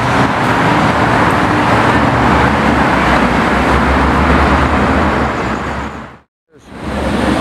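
A silver Ferrari F8 with black wheels drives past on a busy street, its engine roar blending with loud traffic noise before cutting off abruptly near the end.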